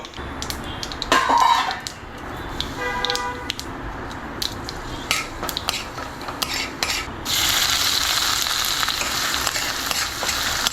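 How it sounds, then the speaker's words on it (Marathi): Mustard seeds, urad dal and chana dal temper in hot oil, giving off sharp scattered crackles and pops before settling into a loud, continuous sizzle. "तेल घाल्या आणि फटाफट फंड घाल्या"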